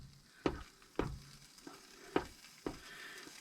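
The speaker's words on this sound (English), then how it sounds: "It says to stir them up good so all the flakes get dissolved." Instant mashed potato flakes being stirred in a pot at a campsite, heard as four sharp scraping clacks of the utensil against the pot spaced about half a second to a second apart, close and fairly quiet, with no talking.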